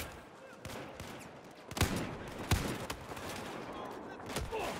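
Gunfire in the Battlefield 4 campaign: scattered sharp shots ring out over a low combat rumble, with two loud close bangs in the middle and lighter pops around them, under a faint background murmur.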